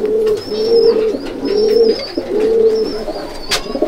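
Close pigeons cooing inside a Sangrampur loft, repeating low rolling coos in a steady rhythm of about four phrases, with a faint higher whistle-like tone riding above and a brief sharp click near the end.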